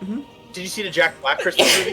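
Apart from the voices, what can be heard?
sneeze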